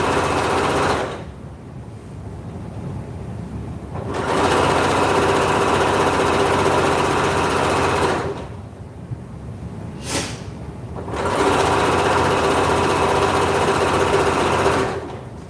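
A sewing machine top-stitches a blanket in loud, fast, steady runs of needle chatter, stopping briefly between bursts, near and alone.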